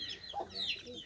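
Faint, brief clucking from Aseel chickens at a cattle and dairy farm in Hudiara, Lahore, heard at a distance over low outdoor background noise.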